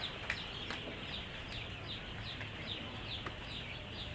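Farm chicks kept inside a house peep in quick, repeated high chirps, many overlapping birds at close range over a faint background hum.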